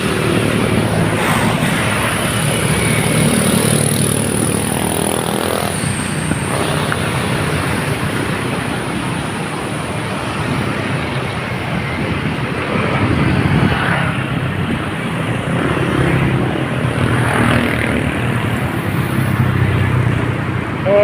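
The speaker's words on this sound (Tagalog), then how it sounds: "At maraming dumarang sasakyan dito" Vehicles passing on IBP Road, a steady, loud roadside roar of engines and tire noise swelling and fading as traffic goes by close to the listener, with no talking.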